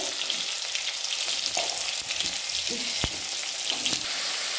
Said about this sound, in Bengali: এখন আমরা তেলে কারি জিরা ফোড়ন দিয়েছি। এখন এক এক করে পেঁয়াজ, টমেটো, হলুদ গুঁড়ো,